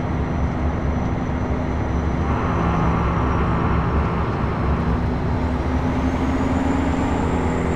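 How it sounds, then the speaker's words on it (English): A Porsche car passes in American Truck Simulator, its engine a steady droning rumble that swells and fades gently against constant road and truck noise. "There goes a car I've never seen before. It's a Porsche."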